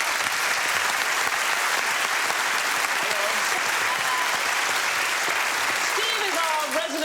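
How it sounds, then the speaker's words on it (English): A studio audience on a British comedy quiz show breaks into loud, sustained, dense applause, an even wall of clapping that holds strongly throughout, with faint whoops near the end. "Beautiful applauding."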